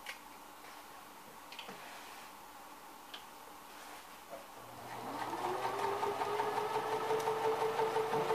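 A basic home sewing machine with a foot pedal gives a few faint ticks, then speeds up into a steady, close, rhythmic whirring straight stitch.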